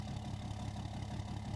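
A truck idles in Farming Simulator 19, a steady low-pitched engine drone that holds constant and close without revving or talk.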